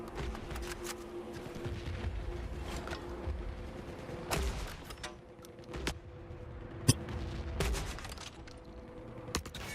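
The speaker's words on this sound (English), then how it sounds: "4 shots with the grenade launcher for a tank" Grenade launcher fire against a tank in the video game Forever Winter, a few sharp, spaced thumps and bangs set over a continuous low mechanical rumble and hum of battle, fairly quiet overall.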